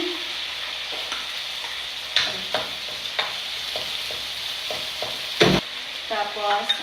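Garlic frying in a pan gives a continuous bright sizzle broken by repeated scraping strokes of a spatula, fairly close, with no talk.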